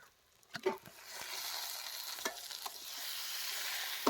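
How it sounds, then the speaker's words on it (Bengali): Chicken stir-fried with coconut and spices in a pan, a faint steady sizzle with a few sharp spatula scrapes and knocks, no voices. "এখন আমরা ভালো করে চিকেনগুলো মশলার সাথে কষিয়ে নেব"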